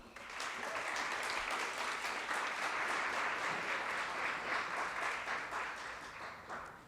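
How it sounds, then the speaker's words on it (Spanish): An audience at a university law event in Mexico gives sustained, fairly distant applause, a dense wash of clapping that fades slightly near the end. "Brindémosle de nueva cuenta un fuerte aplauso."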